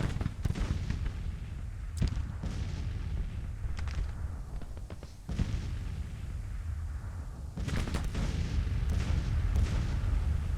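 Artillery cannons firing in a Civil War strategy game, a sustained barrage of booms and sharp reports over a constant rumbling battlefield din, with bursts of heavier volleys near the start and end.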